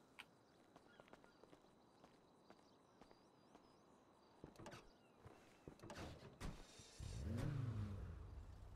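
A convertible car engine in a GTA roleplay game starts and revs loudly near the end, after a stretch of quiet ambience with a few soft steps and clicks. No talking.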